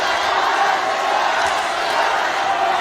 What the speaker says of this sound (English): Chant of Connor from the crowd here as they attempt to rally their man and get behind him